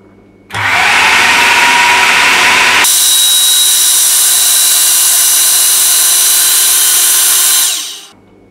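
Electric hand mixer beating banana cake batter made with oil, running steadily at low speed for about seven seconds: a continuous loud whirring motor drone whose tone shifts once early on, then stops abruptly.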